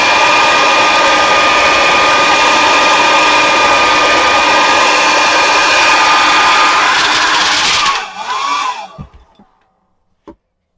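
A hair dryer blows steadily and loudly for about eight seconds to dry a watercolour painting of a sparrow, then switches off and winds down, leaving a few faint handling clicks in near silence.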